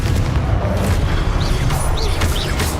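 Confringo spell blasts burst in the Hogwarts Legacy video game: loud, dense booming explosions and crackling impacts that pile up continuously, with swooshing magical effects and no pause.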